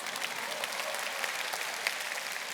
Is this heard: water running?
no